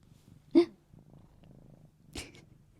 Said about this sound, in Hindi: Living the life of luxury and coziness with my cat.